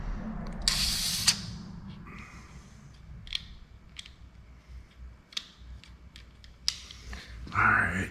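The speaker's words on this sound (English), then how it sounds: "put the nozzle back in, see how it sprays now" Spray gun laying clear coat on a Z28 in a paint shop, with short hissing bursts of spray between quieter stretches and a few clicks and handling noises.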